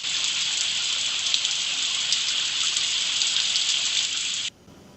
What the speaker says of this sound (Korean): 치유의 비